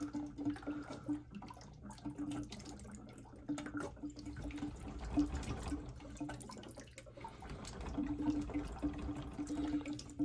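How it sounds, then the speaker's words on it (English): Water draining from a pipe during a water softener and filtration installation, a faint, steady trickle and gurgle with soft drips, close and without talk. "I'm just trying to get the water out of this pipe and this pipe."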